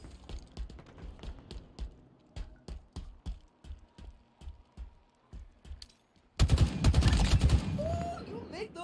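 Rapid gunfire in the online multiplayer shooter Halo Infinite, a string of sharp, evenly spaced shots followed by a louder dense burst of firing and effects near the end.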